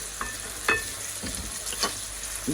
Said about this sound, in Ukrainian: І так, додаю олійки і обсмажуємо.